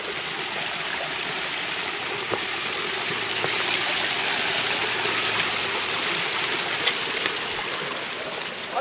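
Water rushes through a ditch in a loud, continuous broadband roar that holds steady throughout, close by, with occasional small splashes and no talk.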